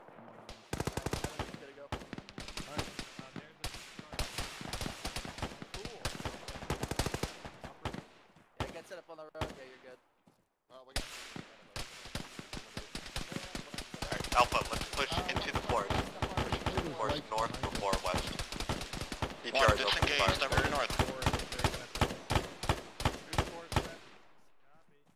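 Bursts of gunfire crackle through an Arma battle, with rapid machine-gun volleys and scattered single shots, some close and sharp, others more distant, building to dense firing near the end.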